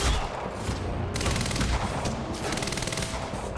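Sustained rapid gunfire in the Quantum Break video game, dense overlapping bursts and volleys filling the clip at steady loudness, with no talking.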